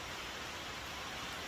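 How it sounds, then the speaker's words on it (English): Steady rain falls outside a garage where work on a 1954 GMC COE truck is underway, a dense, even hiss of loud, constant patter filling the space with no break and no voices. "Sorry it's raining here, it's a little loud"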